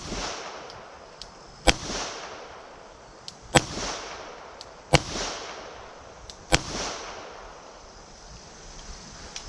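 A handgun fitted with an RMR sight fires four sharp, evenly spaced shots at a target, each crack ringing out over a quiet outdoor background.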